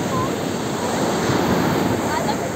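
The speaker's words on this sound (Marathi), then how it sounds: "चलो दे बघ वरती आलं पाणी." Sea waves wash up onto the sand at Devgad beach in a loud, continuous surging roar, with wind buffeting the microphone.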